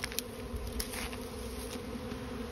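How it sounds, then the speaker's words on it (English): A swarm of honeybees buzzes around a bait hive, a dense, steady drone holding evenly throughout at close range. "That's a lot of bees."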